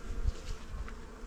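Honey bees buzz in a dense, continuous drone at an open hive while a frame of thin, dark liquid honey is set in, the swarm close and steady with no voices.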